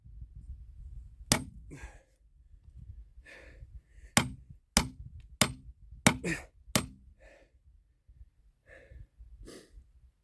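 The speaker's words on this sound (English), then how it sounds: "I don't have a T-post driver, but I've got my little sledgehammer." A small sledgehammer drives a T-post into hard ground, landing about eight sharp, close, loud impacts at an irregular pace, with soft breathing and rustling between the blows.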